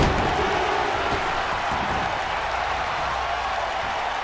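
Wrestling crowd in the WWE 2K22 video game roars and applauds steadily through a match's combination moves, a dense, even wall of cheering noise at constant loudness.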